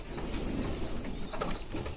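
Soft cooing from pigeons in a racing-pigeon loft, low and fairly faint, with a thin high whistling tone drifting above and no one speaking.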